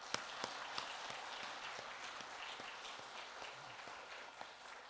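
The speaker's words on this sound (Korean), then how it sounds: "주님에게 다시 한번 큰 박수 올려드리시겠습니다." A church congregation gives a big round of applause during a Sunday worship service, with a sustained, fairly soft wash of many hands and a few sharp, distinct claps near the front.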